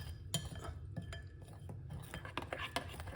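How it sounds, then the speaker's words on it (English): Plantain fritter batter with cinnamon being stirred in a bowl, soft scraping swishes punctuated by light clinks of a utensil against the bowl, faint and close, with no talking. "I'm gonna put some cinnamon inside of it, all right? And just give it a lovely mix."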